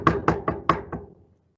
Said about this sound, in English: she's able to knock upon the door and calls out to Yasmin